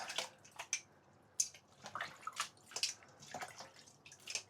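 Water draining from raw lamb breast through a holed container: close, quiet trickles and drips in an irregular patter, with small splashy bursts spread across the span.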